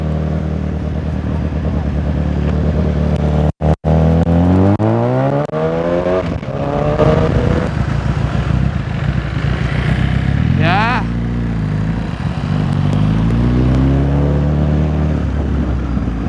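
A 1000 cc sport motorcycle engine revs and pulls hard, its pitch sweeping up through several gear-like climbs with a loud, continuous roar, briefly cutting out mid-run before resuming.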